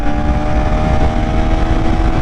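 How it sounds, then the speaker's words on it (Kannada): A KTM Duke 350 motorcycle drops a gear and accelerates hard, its engine a loud, steady, close-up roar that holds strong throughout with no talk. "ಗೇರ್ ಡೌನ್ ಮಾಡಿ ಫುಲ್ ಮಾಡಿ ಶಿಸ್ತಾಗಿ ಹಿಡಿಯುತ್ತೆ ಗಾಡಿ."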